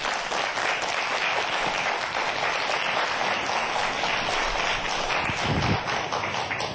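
Studio audience applause welcoming a professor lecturing on stem cells and regenerative medicine, a dense steady wash of clapping from many hands that holds evenly throughout.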